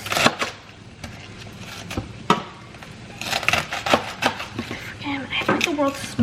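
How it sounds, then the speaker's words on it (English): Lettuce is chopped with a very small knife on a board in a home kitchen, giving a quick, irregular run of close, crisp knocks throughout, with a faint voice murmuring near the end. "so just chopping away some lettuce."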